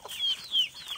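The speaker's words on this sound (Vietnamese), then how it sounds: "Con gà." A chicken clucks twice in quick, fairly faint calls on a rural Vietnamese farm outdoors, with no voices.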